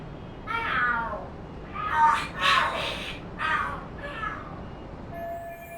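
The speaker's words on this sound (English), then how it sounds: "The hell are there cats fighting?" Cats fighting and screaming in the Lost Judgment video game, a series of shrill, wavering yowls rising and falling in several bursts, moderately close over a quiet background.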